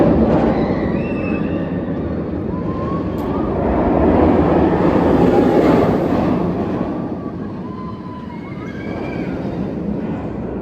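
The Montu roller coaster at Busch Gardens Tampa, which opened in 1996, gives off a steady mechanical rumble as a train runs along the track, swelling to a louder roar midway before easing off, with faint screams and no speech.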